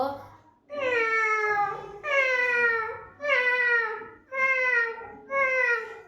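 A voice imitates a cat, giving five drawn-out, whiny meows in a steady series with short pauses, close and fairly loud.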